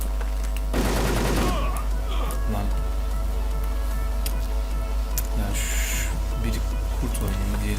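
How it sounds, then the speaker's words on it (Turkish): Gunfire in the online shooter Wolfteam crackles in rapid bursts over a steady game background hum, with a dense volley early on and scattered shots afterward, while players talk over it. "Arkadan çünkü silahla vuruyorlar."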